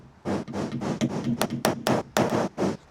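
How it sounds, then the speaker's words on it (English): A dead blow hammer strikes the dented lid of a Tesla Model 3 battery pack, roughly a dozen sharp close blows in a quick irregular series with brief gaps between them. "So I'm just going to use a dead blow, and we'll try and straighten that out."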